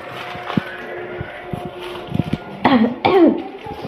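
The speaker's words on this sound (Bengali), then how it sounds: "কাশিটা কমছে না আমার মোটে।" A person with a lingering cough makes a few soft throaty sounds indoors, then gives two harsh, close coughs in quick succession near the end.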